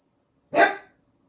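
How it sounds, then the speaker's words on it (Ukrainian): A single sharp dog bark, fairly close and loud, standing alone against a quiet background. "Ой, собака гавка."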